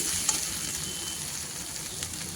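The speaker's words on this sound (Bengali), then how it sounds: "সবজি খুব ভালোভাবে কষিয়ে নিয়েছি" Vegetables frying in a pan, a continuous even sizzle with a faint stirring tap or two, close and steady, with no voices.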